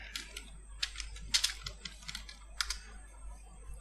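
Someone types a folder name on a computer keyboard: quick, irregular clusters of crisp key clicks, close and fairly quiet over a low steady hum.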